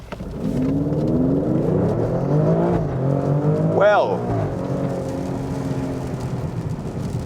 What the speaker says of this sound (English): this is what full out acceleration feels like in this car